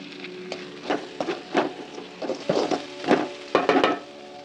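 Spice powder sautéing in oil for banana flower pickle, with soft sizzling and repeated scraping, stirring clinks from a spoon against the pan, close and moderately loud.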